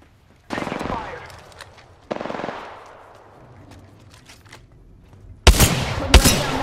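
Machine gun fire in a video game, two sharp close bursts with decaying echo, then louder heavy rapid fire near the end, no talk over it.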